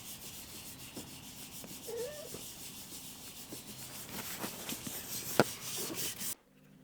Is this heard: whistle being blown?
no